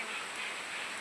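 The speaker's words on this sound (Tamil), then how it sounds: "சரியான மழை, சும்மா துப்புன்னு அடிக்குது." Heavy rain pours steadily, a close, even hiss of dense drops with no break and no talk.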